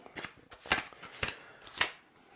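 Oracle cards being shuffled by hand, four or five quick crisp riffling bursts in an uneven rhythm, close and fairly quiet with no talking.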